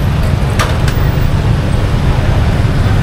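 Steady street traffic on a Pattaya road just after a car crash involving two cars and two motorbikes, a constant loud engine rumble close by with no voices heard.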